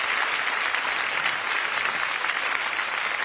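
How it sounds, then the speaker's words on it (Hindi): Audience applause at a live Hindi stand-up comedy show, a dense, steady wash of clapping that stays loud and even throughout with no talk over it. "पत्नी नहीं देखे बस इस हिसाब से ताली बजाओ।"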